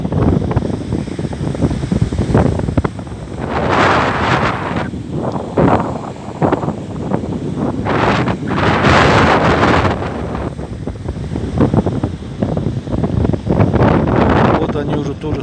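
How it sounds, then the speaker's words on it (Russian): Strong northern wind blowing across the Cherdarinsky reservoir, a continuous loud roar buffeting the microphone with gusting surges throughout, with some talk mixed in. "Вот дует ураганный ветер."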